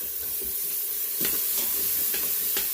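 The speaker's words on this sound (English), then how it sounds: "We're gonna pour our broth in." Beef short ribs sizzle and hiss steadily in a hot pan as broth is poured in, with a few sharp crackling bursts and stirring scrapes close by.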